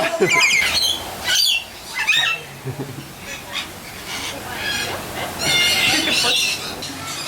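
Parrot squawking loudly in repeated harsh bursts close by, mixed with chattering bird calls, with people talking over and between the cries.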